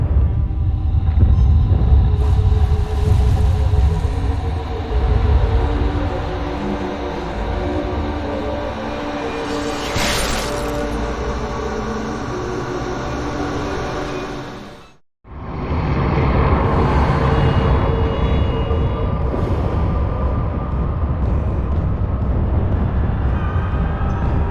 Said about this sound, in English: I must stop this infernal train and the evil force that drives it.